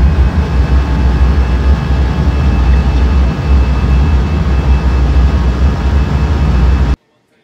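An airliner, Blue Sky 6327, takes off from runway 18 at Rocky Mountains Regional airport, giving a loud, steady, broad roar that holds throughout and then cuts off abruptly.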